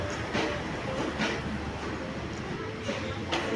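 Train at Phun Phin railway station in Surat Thani, Thailand, in the evening, with rumbling rail noise and periodic clacking bursts, moderately loud and close.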